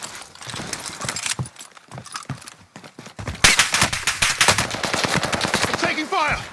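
Gunfire in Call of Duty Warzone Pacific, with an MP40 in use: sharp, loud shots and rapid automatic bursts in uneven clusters. They grow denser and closer toward the end amid other game noise.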